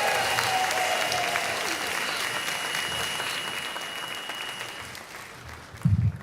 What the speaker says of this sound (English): So now let's give it up for our mayor, Justin Mbib.